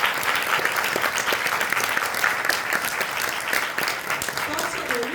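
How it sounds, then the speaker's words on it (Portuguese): An audience at a book launch claps warmly and continuously, a dense patter of many hands that holds steady throughout, with faint voices mixed in. "Uma salva de palmas para ela."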